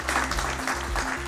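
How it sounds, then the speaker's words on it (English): An audience claps to welcome the Chief Minister of Himachal Pradesh and his delegation at an investors' road show, a short, dense burst of applause with a low steady hum beneath. "Please welcome them with a big round of applause."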